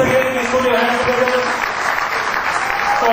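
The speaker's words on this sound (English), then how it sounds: "Everybody, once again, please put your hands together." Audience applause at a business school alumni reunion, a steady wash of clapping from a crowd that holds for the whole stretch, with voices talking faintly underneath.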